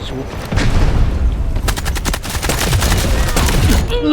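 Bursts of rapid automatic gunfire in the Delta Force video game, loud and close, with sharp clustered shots crackling over a rumbling background and a few distant reports; no talk is heard.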